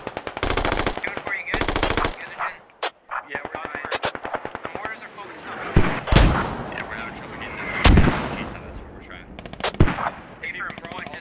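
Automatic weapons chatter in the Squad video game, rapid loud bursts up close followed by scattered heavier single shots and booms, with someone talking over the battle.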